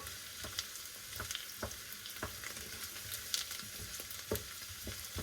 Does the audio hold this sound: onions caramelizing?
yes